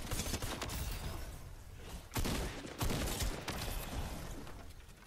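Gunfire in Fortnite comes as a steady stream of rapid shots with a few heavier bursts standing out, set against dense game noise at a moderate level.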